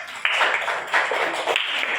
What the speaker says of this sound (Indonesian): Ya, ya beri tepuk tangan.